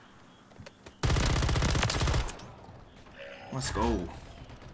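A long burst of rapid automatic RAM 9 rifle fire in Modern Warfare 3, loud and close, cuts in after quiet game sounds, then fades as a player speaks briefly over the background.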